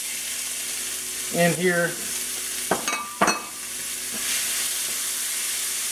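Onions and poblano peppers sizzling in a hot pan: a continuous, moderate hiss with a few sharp clatters of the pan and utensil, while someone speaks briefly in the middle.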